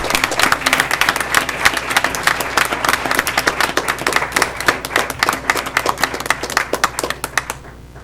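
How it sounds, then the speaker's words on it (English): A round of applause at a school board meeting, dense crisp clapping from a roomful of people, loud and continuous before thinning out at the end. "We'll give them a big round of applause"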